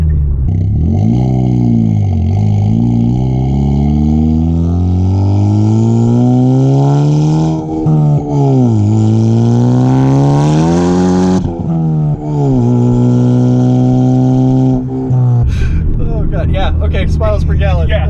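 A 2015 Ford Focus ST with a turbo accelerates hard, engine pitch climbing through several gears with clear shifts, loud and close from inside the cabin, with people talking over it.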